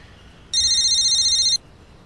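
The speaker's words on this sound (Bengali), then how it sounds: "আমি একটু ফোনটা ধরে নিই।" A telephone rings during a Bengali short film: one burst of bright, electronic, warbling ringing lasts about a second, loud and close against a quiet room, then stops abruptly.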